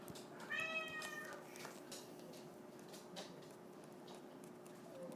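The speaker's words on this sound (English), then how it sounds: "That's my son's cat you hear in the background." A house cat meows a couple of times in the background, faint and somewhat distant, with a steady low hum underneath and no talking.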